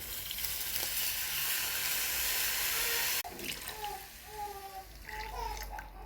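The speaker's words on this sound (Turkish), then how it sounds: "Endi biz bununla su koyuyoruz." Water runs steadily and loudly into a cooking pot for a few seconds, then stops abruptly, leaving softer splashes and clinks of the pot.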